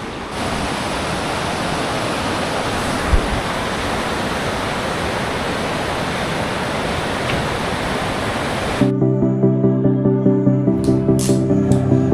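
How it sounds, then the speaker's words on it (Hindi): The Kali river flows between the Nepal and India sides of Dharchula as a loud, steady roar of rushing water lasting about nine seconds. It then cuts to a quieter passage with faint rhythmic tones. "बीच में काली नदी है"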